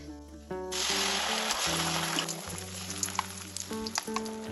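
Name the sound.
spice paste frying in oil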